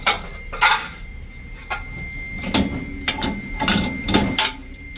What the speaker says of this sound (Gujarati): આપણે તાંબાના તળિયાવાળા વાસણ પણ આમાં સેટ કરી શકો છો.